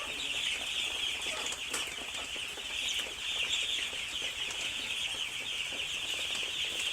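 Chickens gather outdoors in steady, all-day rain, with soft clucks and occasional wing flutters set against a constant dense hiss of falling rain, with no one speaking.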